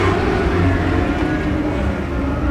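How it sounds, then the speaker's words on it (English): California Lightning sprint cars racing at Perris Auto Speedway, a dense, continuous engine roar held at steady loudness for the whole stretch, with no voices. "California Lightning Sprint Car final race of the year"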